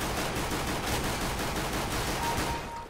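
Rapid bursts of gunfire from a CS:GO deathmatch rattle on continuously at moderate level, a dense stream of overlapping shots with no voices over it.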